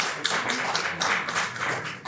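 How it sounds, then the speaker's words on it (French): Audience at a public meeting on paid parking clapping steadily for about two seconds, a dense even patter of many hands at moderate distance with no voices over it. "Merci beaucoup pour vos applaudissements"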